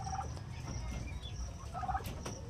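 Turkeys gobble in a busy flock while pecking up small stones from the sea, their bursts of gobbling rising twice over a steady background of clucking and rustle.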